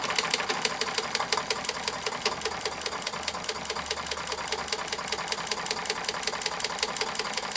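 A Mamod SP8 James Watt stationary steam engine runs steadily, its fast, even mechanical chatter repeating throughout with no talk over it.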